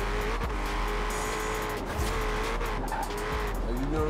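Shelby GT350R with a 1,074-horsepower build in Forza Horizon 4, its engine roaring steadily at high speed with a loud, continuous drone and brief squeals of tires through corners.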